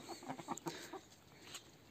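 Roosters and hens bought for backyard raising cluck and call in a short, irregular series of close, moderately loud bursts, with no talking.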